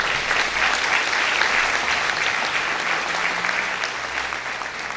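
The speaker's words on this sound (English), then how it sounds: "Could we give them a hand of applause?" Crowd applause at the Sunbelt Ag Expo Southeastern Farmer of the Year award ceremony, honoring officials introduced on stage; a continuous, full round of clapping from a large audience, loud and even, fading slightly toward the end.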